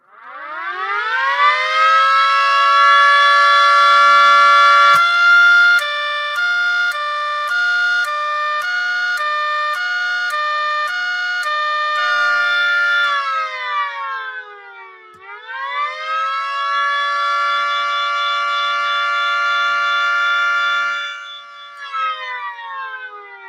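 A small 3D-printed mini STH-10 siren being tested: a loud, sustained rising wail with rapid choppy pulsing in the middle, a dip and second wind-up, then winding down near the end, heard alone without talk.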